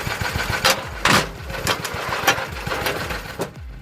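A 1950s Lister D 1.5 hp petrol engine drives a homemade log splitter, chugging with a steady low thumping pulse and sharp periodic knocks and clatters from the machinery, fairly loud and close.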